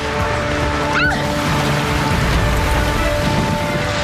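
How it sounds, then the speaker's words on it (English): Steady rain drums on a roof during a lightning storm, a dense continuous hiss at constant loudness with a brief sweeping tone near the start and no clear thunder crack. "There's a lightning storm right now."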